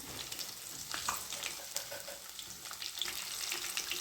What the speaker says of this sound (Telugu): ఇప్పుడు నేను దంచి పెట్టుకున్న వెల్లుల్లిపాయ వేస్తున్నాను.